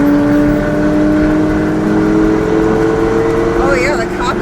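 Supercars on a rally drive along a road, engines droning and accelerating steadily from inside a moving car, with a loud continuous hum and rising whine near the end.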